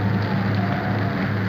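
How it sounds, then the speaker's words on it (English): Heavy rain pours steadily and loudly, a dense continuous hiss of drops with a low rumble beneath, filling the scene without any pause or talk. "Sky obscured. Visibility 0 in heavy rain."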